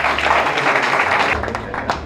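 A brief burst of audience clapping at a political gathering, dense and fairly close, easing slightly in the second half.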